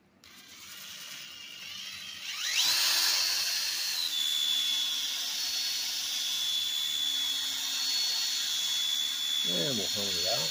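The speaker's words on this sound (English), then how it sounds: "we're going to hit it with the 120 again on the drill with the hone" Electric drill spinning a 120-grit hone inside an oiled valve guide of an MGB cylinder head, a steady high whine that starts a couple of seconds in and runs continuously, close and fairly loud, with a brief clatter near the end.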